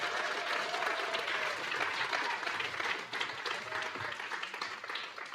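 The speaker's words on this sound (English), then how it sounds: "Let's get a huge round of applause for all 10 shortlistees today." An audience at a children's book awards shortlist announcement in Ireland claps continuously in sustained, fairly full applause, with no voices over it.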